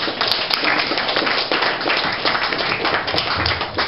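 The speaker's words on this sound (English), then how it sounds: "Can we get another round of applause for them?" Guests at a Costa Rica wedding applaud the bridal party, a full, steady round of clapping close by that runs evenly throughout with no talking.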